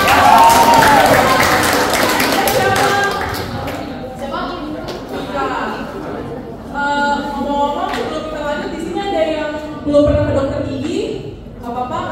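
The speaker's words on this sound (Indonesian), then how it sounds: "Tepuk tangan." Applause and clapping from a group of preteens at a dental care session in Palembang, loud at first then tapering, followed by speech.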